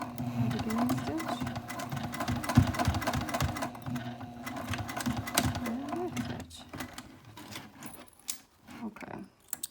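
Sewing machine stitching through thick fabric layers for a sling, a fast mechanical whirring chatter running steadily for several seconds, then slowing to slower, separate hand-cranked clunks near the end, close and fairly loud, with a voice talking over it.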